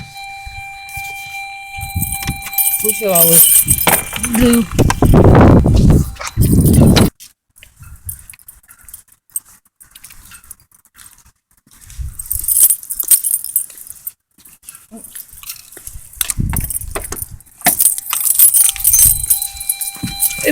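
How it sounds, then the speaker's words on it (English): A 2004 Saturn ION four-door sedan's door-open warning beeper sounds as a steady electronic tone near the start and again near the end, with handling noises, a faint voice and quieter car sounds between. "It makes this beeper sound until I close the door"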